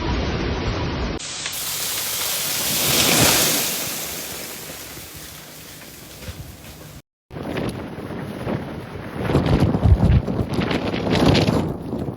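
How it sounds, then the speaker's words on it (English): An ice-driven winter storm batters the United States with loud, steady roaring wind and rushing spray of rain. The roar swells and eases, cuts out briefly midway, and no voices are heard. "a dangerous ice-driven winter storm has been ripping across the country."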